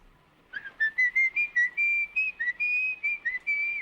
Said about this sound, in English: it's the whistle that tells the story